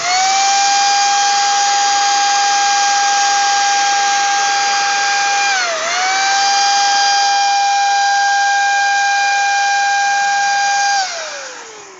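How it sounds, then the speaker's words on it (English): A TILSWALL 550W electric paint spray gun sprays watered-down latex paint onto a wall, giving a loud, steady high-pitched motor whine that dips briefly midway and drops off near the end. "electric spray gun, and it's for paint. I put I put latex paint in there that has been slightly watered down, so it sprays easier."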